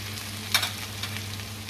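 Fettuccine pasta and garlic lemon shrimp in a creamy sauce being stirred in a hot pan, one brief scraping stir over a steady sizzle, close and fairly quiet.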